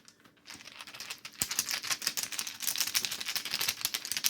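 Tarot cards being shuffled by hand: rapid, crisp riffling and flicking of card stock, up close, building in loudness after a quiet start and continuing steadily with no talk.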